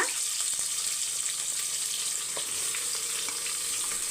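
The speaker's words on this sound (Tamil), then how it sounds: "சின்ன வெங்காயம் ஒரு நூற்றம்பது கிராம் சேர்த்துக்கோங்க" Shallots fry in a pan for mutton curry, giving a constant bright hiss of hot oil at close range with a few faint stirring clicks and no speech.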